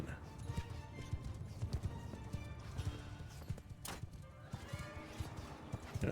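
Hooves of a horse in Mount & Blade II: Bannerlord beat in a quick, steady galloping rhythm, close and clear against game ambience, while someone talks over it.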